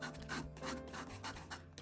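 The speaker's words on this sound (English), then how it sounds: "Try a little scraping." Paint scraped across a gelli plate for mixed-media printing makes a close, faint rasping rub in a few short strokes of varying pressure.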